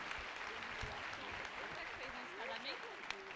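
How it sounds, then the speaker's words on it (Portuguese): A church congregation applauds during a baby's presentation at the altar, a steady, fairly quiet patter of many hands that runs throughout, with faint talk in the background. "Você pode aplaudir o Senhor por essa vida linda?"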